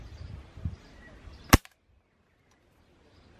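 A single sharp gunshot cracks close and loud, then cuts off into near silence, after some faint background rustle and movement.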